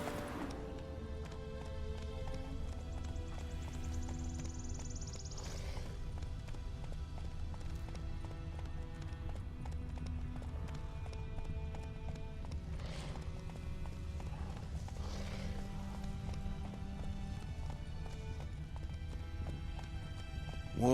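A horse gallops in the video game Witcher 3, with a continuous rhythmic clip-clop of hooves at a steady pace and a few snorts and neighs over the running beat.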